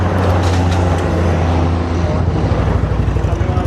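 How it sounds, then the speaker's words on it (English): Road traffic on a coast road, a steady dense rumble of passing vehicles, loud and continuous with low engine drone throughout, heard from the roadside. "and you can hear the traffic."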